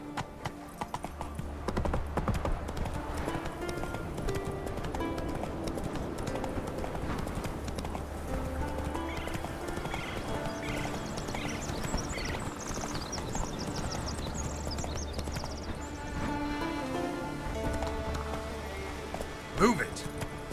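Horse galloping in The Witcher 3: Wild Hunt, a steady run of hoofbeats carried under a dense orchestral score, with occasional voices speaking over the action.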